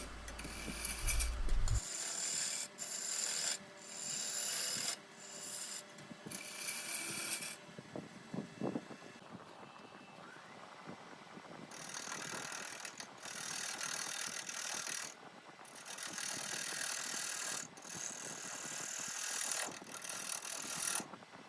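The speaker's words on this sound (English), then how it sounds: "I'll just use the parting tool and establish a little bit of a shoulder, and that way it'll prevent the tool from skipping back" Parting tool cutting a shoulder into wood spinning on a lathe, giving a rough, scraping rasp that comes in repeated bursts of a few seconds, close and fairly loud, with no speech.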